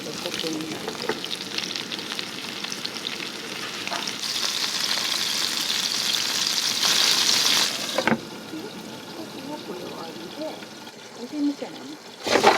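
Vegetables stir-fry and steam in hot oil in the kitchen of a countryside kissaten in Tanba, a busy close sizzle with stirring and gushing bursts, while voices talk throughout.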